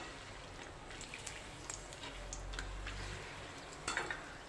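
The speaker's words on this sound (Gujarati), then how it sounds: "હવે આપણે એ તેલમાં પાપડ શેકી લઈશું।" Soft crackling and sizzling as a urad dal papad roasts in hot oil, faint and low with a few small pops and one brief sharper burst near the end.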